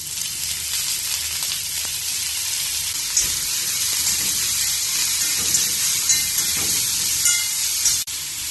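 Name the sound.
sautéing shallots, garlic and radish in oil in a pan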